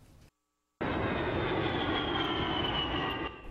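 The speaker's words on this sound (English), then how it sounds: "The unique sound of the A-10 Warthog firing its primary machine gun is not yet silenced." A-10 Warthog jet firing its primary machine gun: a sustained, dense roaring burst that starts abruptly after a brief silence and holds steady, with no voices.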